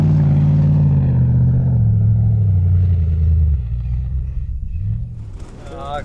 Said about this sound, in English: It's hard to beat the sound of the V8